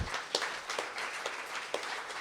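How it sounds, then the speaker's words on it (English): An audience at an evening book talk claps, a thin, scattered patter of hands with a few sharper individual claps, fairly quiet and distant. "Clap it up for them."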